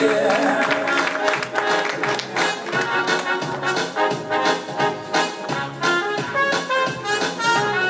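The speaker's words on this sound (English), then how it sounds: "She deserves a resounding applause." Audience applause at an association's presidential investiture ceremony, a dense sustained patter of many hands clapping for several seconds with slight swells and dips, mixed with faint voices.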